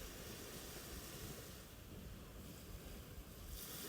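Ocean surf washes steadily onto a beach as a soft, continuous wash of noise with gentle swells and no voices.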